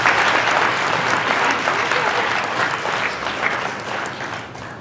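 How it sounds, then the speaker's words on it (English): Sustained, dense applause from a crowd of guests at a South Asian wedding in Chicago, clapping steadily for both families and tapering slightly toward the end. "So let's please give a round of applause for both families."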